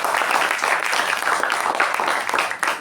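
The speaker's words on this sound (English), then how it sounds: "I think she deserves a big round of applause for that." An audience at a Toastmasters club meeting applauds a speaker, with dense, fairly loud clapping that carries on steadily for a few seconds before starting to thin out.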